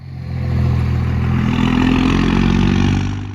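Cars drive through a stop sign at a town street corner in Huntsville, one engine passing close with a steady rising and fading hum and road rumble, heard alone for a few seconds.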